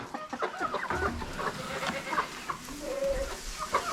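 Chickens on a ranch cluck and squawk near the microphone in a busy, overlapping chorus, with rustling movement and faint farm background.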